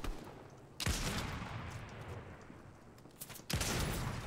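Two sharp bursts of gunfire in Fortnite, one near the start and another near the end, each a loud crack trailing off into noise, with quiet gameplay ambience between and no talking.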